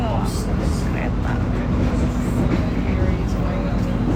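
Steady rumble of a moving train carriage heard from inside, a continuous low drone with a faint hum and light rattles throughout.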